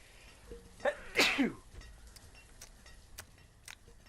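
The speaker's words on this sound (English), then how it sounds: "Yep, there's the sneeze." A single sharp sneeze with a quick intake before it, fairly close, followed by quiet background and a few faint clicks.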